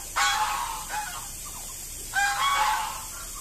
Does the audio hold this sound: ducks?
yes